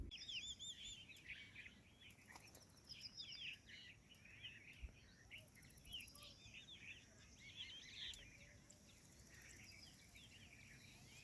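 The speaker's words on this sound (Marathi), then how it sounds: "चारही बाजूनी पक्ष्यांचा अतिशय सुंदर असा आवाज येतो आहे." Birds call and chirp all around a mountain pass (ghat), with many faint overlapping calls near and far and a light background hum, no speech.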